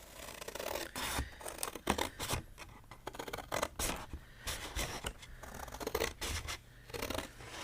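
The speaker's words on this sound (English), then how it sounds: "I'm just going to use my big scissors for these." Repeated crisp snips of scissors slicing through paper, a quick irregular series of close cuts with soft rustling between them.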